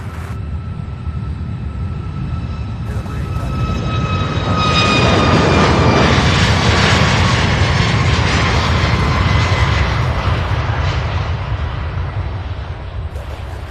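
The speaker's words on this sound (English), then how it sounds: "This one here heading to Denver, Colorado. Southwest flight 478." A Southwest Airlines jet takes off at Louisville International Airport, its engine roar swelling steadily to a loud peak midway and then holding as the plane pulls away, with whining turbine tones sliding downward.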